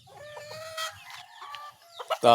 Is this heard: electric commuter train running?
no